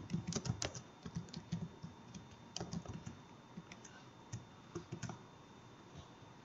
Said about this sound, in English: now you can type any text